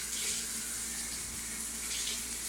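Hot water pours from the tap of a multipoint electric water heater, a continuous hissing rush at an even, fairly low level with no voices over it.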